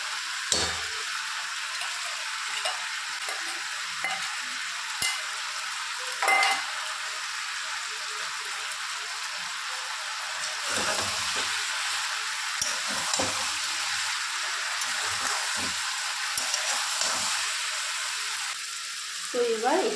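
Fish sizzles and fries steadily in a pan, a continuous hiss with occasional stirring clatters and scrapes, close and moderately loud throughout, with no talking.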